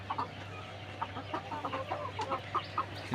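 Laying hens cluck in short, scattered bursts on a very hot day, over a steady low hum, several birds calling near and far with no talking.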